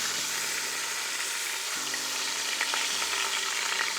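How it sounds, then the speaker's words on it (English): Beef sauteing in an Instant Pot for barbacoa tacos gives a steady, loud sizzle and frying hiss with faint stirring under it, continuous throughout. "now we're gonna turn it and saute the other side for 5 minutes as well"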